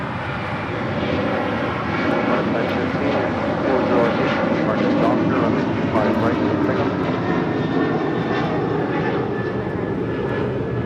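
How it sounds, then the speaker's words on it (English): An Alaska Air airliner roars at LAX toward runway 25 left, a broad, sustained engine rumble and whine filling the scene at steady loudness, with some radio-style talk mixed in. "We do have that Alice Air Queen heading to 25 left for a Southside departure coming up."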